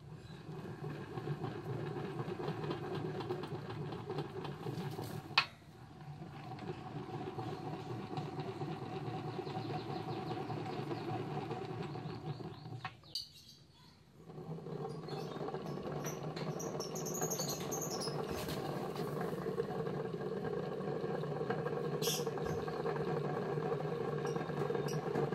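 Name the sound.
crankshaft turned by hand, Honda Tiger and GL100 engines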